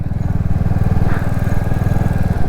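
A Royal Enfield Meteor 350 motorcycle rides along a scenic road, its engine giving a loud, steady low thump with continuous rumble and no break.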